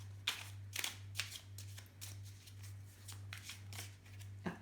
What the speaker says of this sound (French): Donc nous allons procéder au mélange des cartes.